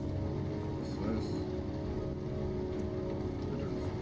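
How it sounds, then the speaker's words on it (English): Rain falls in a video game, a steady, moderate hiss of rain on surfaces that holds evenly throughout with no speech over it. "raining."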